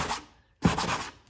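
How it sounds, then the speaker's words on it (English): A sanding block scuffs a small dust nib off a painted wall, two short dry rubbing strokes split by a brief pause, close and moderately loud with no voices. "A little bit of dust right there. I'll sand that out."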